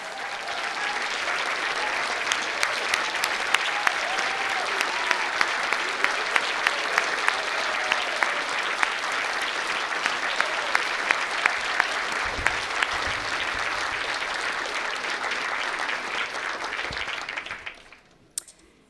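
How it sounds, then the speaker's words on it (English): A large audience at a national newspaper awards ceremony applauds its finalists, with steady, dense clapping that holds for about seventeen seconds before fading out. "so we can give them the round of applause that they deserve"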